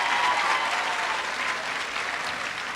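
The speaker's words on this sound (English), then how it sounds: "can we have a huge round of applause for all the talent and the great kids that you saw on stage tonight" A theatre audience claps for child performers at a show finale, dense steady applause filling the hall without a break, a touch louder at first and easing slightly toward the end.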